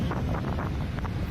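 Wind blowing hard at a beach buffets the microphone in a steady low rumble with no speech, alone for a short moment.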